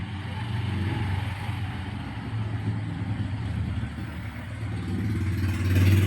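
An engine runs steadily without load after starting, a continuous low mid-pitched idle hum that holds even throughout and swells slightly near the end, with no talk over it.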